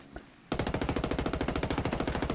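An F2000 rifle fires in Ghost Recon Wildlands: after a short quiet pause, a loud, steady stream of rapid automatic shots keeps going to the end without a break.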